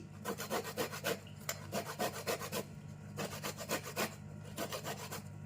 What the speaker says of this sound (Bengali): নারকোলটা খুব মিহি করতে কুড়াতে হয়